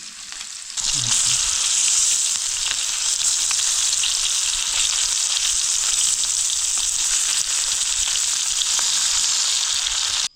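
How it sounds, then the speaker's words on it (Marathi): Garfish fry in oil on a wood-fired clay stove, a dense continuous sizzling hiss that starts abruptly and holds steady and loud for about ten seconds before cutting off. "मच्छी तर छान अशी शिजवून घेतलेली आहे, आणि फ्राय पण आता आई करते."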